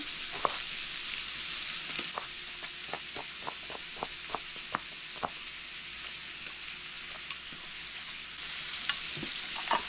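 Steady, bright sizzling of potatoes frying in a hot cast iron pan, with scattered soft pops and crackles running throughout.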